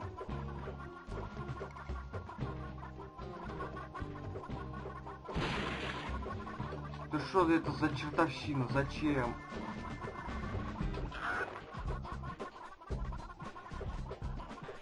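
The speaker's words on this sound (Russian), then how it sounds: "Так, куры, идите сюда." Chickens cluck in the PS1 game Gex 3: Deep Cover Gecko, in a short burst of squawks mixed with crashes and whacks, while someone talks over it.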